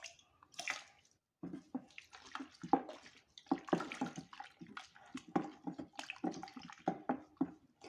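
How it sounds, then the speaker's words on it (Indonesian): Water trickles and splashes in uneven bursts as it is poured into a homemade liquid soap mixture, a close, fairly quiet wet sound with no talking. "Kalau masih ada sisanya kita bisa tambahkan sedikit air."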